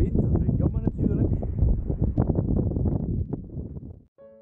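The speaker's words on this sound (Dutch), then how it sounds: "Wel weer wind, dat is jammer natuurlijk." Wind buffets the microphone in heavy low rumbling gusts during a drive through the Picos de Europa near Potes, then drops away abruptly near the end.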